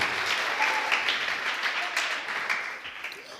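A church congregation bursts into continuous applause, a dense, even wash of clapping at moderate volume that gradually tapers, with little talk over it.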